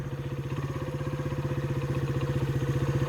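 A 2015 SYM Wolf motorcycle engine running close by, a steady rhythmic single-cylinder thump that rises slightly in level as a little throttle is applied.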